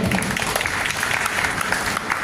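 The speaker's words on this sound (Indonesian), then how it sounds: "Tepuk tangan untuk beliau." An audience at a seminar applauds a team leader with loud, dense clapping from many hands, steady and close throughout.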